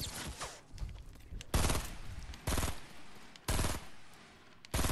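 Gunfire in the video game Fortnite: several loud bursts of rapid shots crack out in separate volleys, each lasting under a second, spaced across the clip with quieter game noise between them.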